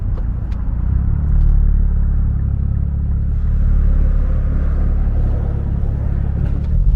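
A Nissan 400Z launches from a standstill in first gear, its engine giving a loud, deep, sustained roar close by that swells and holds steady as the car accelerates, with no talking.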